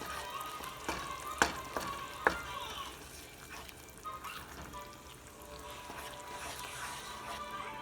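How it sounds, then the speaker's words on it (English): A spoon mixes yogurt into tomato lamb curry, giving gentle scraping and bubbling with two sharp clinks of the utensil against the pan early on, then a softer simmering hiss. No one speaks. "Give it a good mix nicely."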